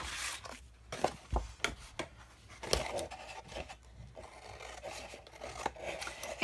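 Paper being cut along score lines for a beehive-style treat box or gift box, giving soft, close rasping snips and scrapes in short irregular bursts with no talking.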